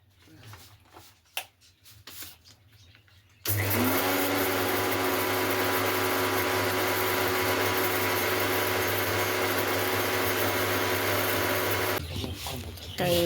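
After quiet knocking and rustling, an electric grinder starts loudly and runs steadily for about eight seconds, grinding mustard seeds into a fine paste, then stops with some clatter.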